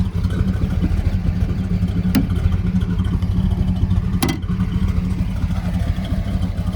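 A Dodge Charger's 426 Hemi V8 idles steadily with a deep, lumpy rumble, loud and close, with a couple of sharp clicks over the drone.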